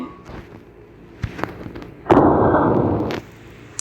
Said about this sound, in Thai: อุ้ยปืนลั่นเลย